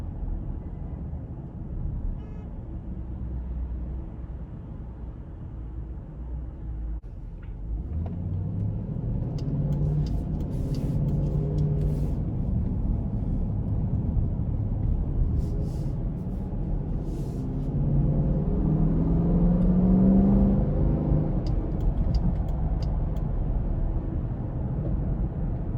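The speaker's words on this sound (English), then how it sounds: "just a really, really nice exhaust sound" Exhaust note of a 2021 Dodge Durango R/T Blacktop while driving: a steady, close, deep V8 rumble with a low drone that swells as the engine rises through the revs, no talking.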